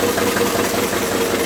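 A stationary IC engine runs steadily on a test rig with a 9 kg brake load applied through the brake drum and flywheel, giving a continuous, even mechanical drone with a faint knocking texture and no voices.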